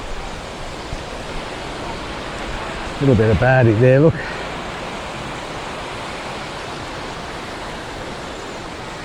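Little river flowing in Pont Aven, a steady broad rush of running water throughout, fairly loud and close, with someone briefly speaking over it partway through.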